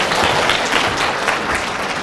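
Large audience applauding in a packed convention hall at a university admissions talk, a dense steady wash of clapping from many hands that holds at the same level throughout.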